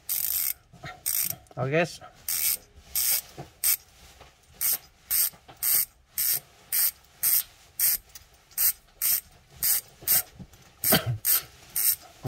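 Rapid ratcheting clicks from a Strummer HR200 road bicycle freehub come in regular bursts, about one per second, crisp and close, with a brief spoken word near the start.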